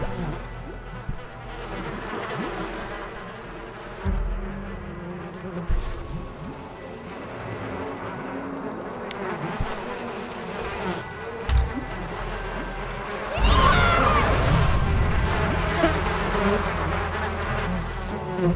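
A dense swarm of bees drones steadily around the bee man enemy in the horror game The Chant, a continuous loud insect hum over muffled game noise, with a sudden heavy crash surge near the end.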